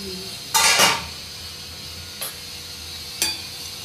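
Mango sheera being stirred in a pan: one scraping sweep of a spoon against the metal, then two short scrapes, over a quiet kitchen background.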